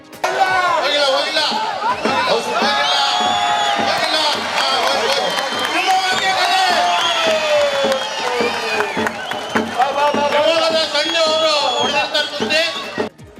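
At a traditional kusti wrestling bout in a Shivamogga stadium, a loud, close crowd cheers, whoops and shouts without letup. Excited voices overlap in a dense roar, with bursts of clapping and whistles mixed in.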